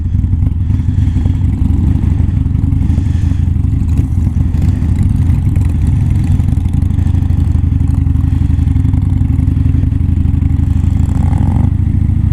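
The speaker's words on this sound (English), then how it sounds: "we've got Terry, Sportsman John on his beautiful Sportster, Andrew and Timo on the Hornet, CBR 600," Group ride of motorcycles including a Harley-Davidson Sportster and a Honda Hornet, a continuous loud low engine drone with steady wind rumble, no distinct revving.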